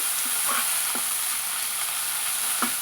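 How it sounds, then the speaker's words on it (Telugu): Fresh coriander leaves roast in a hot pan for ridge gourd chutney, giving a steady soft sizzling hiss with a few light scraping stirs, close up and with no voices. "బాగా పచ్చివాసన పోయే వరకు వీటిని రోస్ట్ చేసుకోవాలి."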